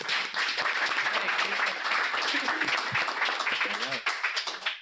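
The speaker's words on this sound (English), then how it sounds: "So can we all applaud and welcome our panelists?" Audience at a New Jersey Education Association panel event clapping to welcome the panelists, a fairly dense round of applause with scattered distinct claps and a voice talking through parts of it.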